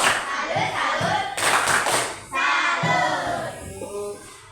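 A school class does the 'tepuk salut' clap routine, bursts of group clapping alternating with children chanting along in a patterned rhythm.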